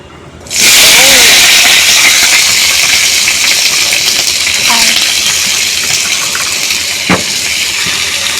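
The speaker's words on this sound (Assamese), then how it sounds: "এইখিনি ফাৰ্ষ্টত ভাজি ল'ম মই" Vegetables sizzle as they hit hot oil, a loud sudden hiss that holds steady for several seconds, with faint clinks and a brief voice passing underneath.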